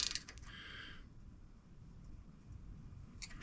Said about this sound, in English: then I'm going to tighten the nut on the back side